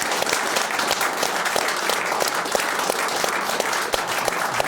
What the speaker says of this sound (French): Je vous demande de l'applaudir bien fort.